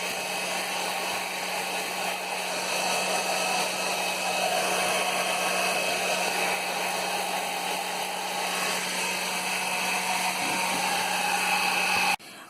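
A hair dryer blows steadily on painted paper tubes used for paper basket weaving, a loud, constant whooshing whine with a fixed motor hum, running unbroken for about twelve seconds before cutting off.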